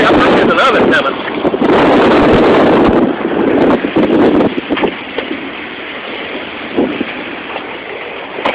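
Strong wind roars continuously from a tornado outdoors in Phil Campbell, Alabama, loud and gusting, with buffeting against the microphone and a voice speaking underneath.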